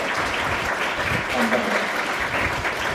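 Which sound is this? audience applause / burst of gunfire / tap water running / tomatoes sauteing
audience applause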